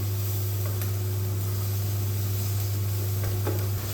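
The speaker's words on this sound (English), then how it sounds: "Now we want to just caramelise those onions until they're starting to soften" Sliced brown onion frying in olive oil in a pan, a steady close sizzle under a constant low hum, with a few faint clicks of stirring.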